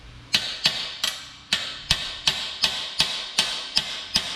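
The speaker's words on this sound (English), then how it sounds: "then you can hammer it down and it won't go away from you" A hammer strikes metal on a Chevy 5.3 LS LM7 engine in a family garage: about eleven sharp, evenly spaced blows, close and loud, with no talk.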